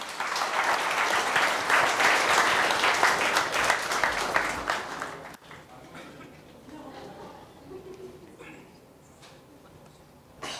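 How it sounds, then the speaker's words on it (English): A stage audience at a mentalist and mind-reading show claps loudly for a volunteer. The applause cuts off about halfway, leaving a quieter room with faint movement and a soft voice. "Round of applause for Anil"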